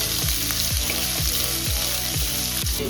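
Onions frying in a pan for potato fry, a loud dense sizzle filling the sound, with a rhythmic scraping stir repeating about twice a second, very close.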